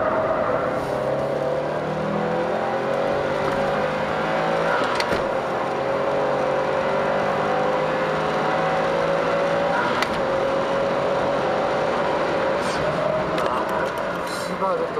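Subaru WRX STI with its EJ20 engine held at full throttle on a circuit, a loud, continuous engine note climbing through rising harmonic sweeps and gear changes, with people talking over the cabin roar.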